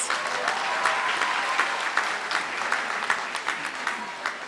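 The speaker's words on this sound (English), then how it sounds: "Let's give him a round of applause." Audience applause fills a graduation ceremony in Windhoek, a dense, steady wash of many clapping hands with sharper individual claps standing out toward the end.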